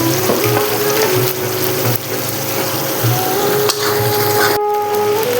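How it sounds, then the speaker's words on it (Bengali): A pan of fried spice masala with ginger, garlic and tomato keeps up a steady, close hiss as poppy seed paste goes in, with a few soft clinks and scrapes along the way. "এখন আমি এর মধ্যে পোস্ত বাটাটা দিয়ে দেবো।"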